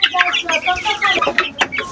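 Fayoumi chickens cluck and squawk in quick repeated calls close by, with some human voice mixed in.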